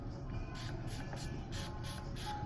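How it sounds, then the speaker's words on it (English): Repeated pumps of Jane Carter detangling solution spritzed from a spray bottle onto long box braids, about six quick hissing bursts in a steady rhythm, close and clear, with no talking. "So we're gonna spray a lot on there."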